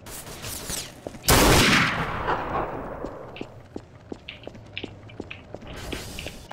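Gunfire in a roleplay video game: a loud burst of rapid shots, followed by a long run of sharper, scattered single cracks and echoing pops at varying distances, with no talking.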